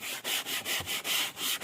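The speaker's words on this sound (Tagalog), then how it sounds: "Dali, kuskusin mo." Hand scrubbing of a surface with a steady back-and-forth rubbing rhythm, about eight strokes in quick succession, close and moderately loud with no talk.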